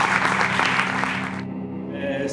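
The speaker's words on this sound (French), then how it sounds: "Pat Tremblay, et on l'applaudit" Audience at a film festival screening applauds a filmmaker, broad clapping for over a second before it cuts to a quieter room with low music or hum underneath.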